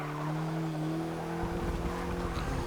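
A 1989 Porsche 944 Turbo, rear-wheel drive on standard road tyres, drones steadily under load in Forza Motorsport 6, its engine note joined by scrubbing tyre noise as the car slides.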